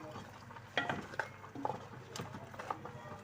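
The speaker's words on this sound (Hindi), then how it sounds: "क्योंकि इसकी हड्डियां बड़ी हैं इसलिए ज़रा चम्मच हिलाने में भी थोड़ी सी दिक्कत होती है" A spoon stirring goat trotters (paya) as they roast in a pot, giving a few scattered clinks and scrapes with soft sizzling underneath, close and fairly quiet.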